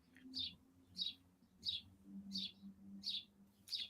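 Wild birds chirp outside a window, a series of six short, evenly spaced high tweets at moderate distance, fairly faint over a low steady background hum.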